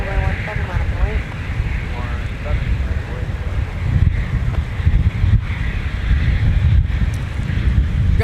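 Gusty winter wind at Minneapolis–St. Paul airport buffets the microphone with a steady, loud roaring rumble that swells and dips throughout, and a voice is faintly audible beneath it.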